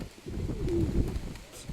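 Pigeons cooing close by, a soft throaty coo rising and falling over about a second, with faint background noise and a light grey speckled hen pigeon nearby.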